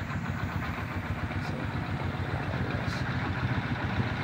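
A motorcycle engine idles steadily with an even, low rumble, close by and continuous, with no talk over it.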